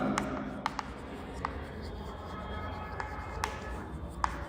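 Chalk or marker strokes on a board during a math lesson, a handful of short, sharp taps and scratches spaced irregularly over a steady low room hum, with no voice.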